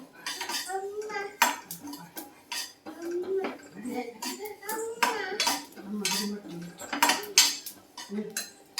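Dry-roasted spices for Melkote Iyengar puliyogare scraped from a pan onto a plate, with close, repeated metallic scrapes and clinks of spoon against cookware in an irregular rhythm.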